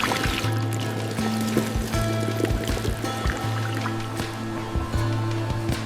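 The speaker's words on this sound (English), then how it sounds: "A vacuum system instantly sucks the water out." A closed-loop vacuum system in a coconut water extraction factory sucks the liquid from cracked coconuts, giving a close gurgling, pouring slurp with machine hum and sputtering bursts throughout.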